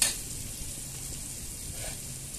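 Food frying in a pan with salt, turmeric and chili powder, a soft continuous sizzle under a brief clatter at the start, quiet and steady with no talking.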